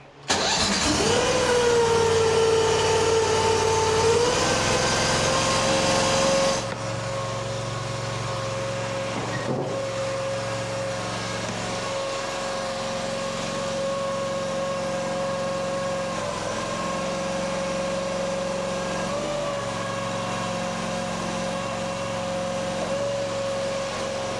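Engine on a firewood processing machine cranks and fires, revs loudly with a rising whine, then drops after several seconds into a steady, close idle hum with faint periodic variations, and no talk.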